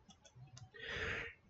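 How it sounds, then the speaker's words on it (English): A few soft, quick clicks of a computer mouse right-click, then a brief rushing burst of noise; quiet and close, with no talking. "I'm going to right mouse click on my project here"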